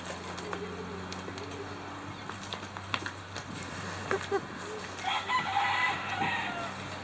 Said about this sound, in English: Chickens say goodbye.